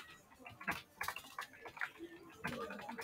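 Fingers typing on a computer keyboard while entering text in Microsoft Word, a close run of irregular clicks and key taps in quick bursts with short pauses, no speech.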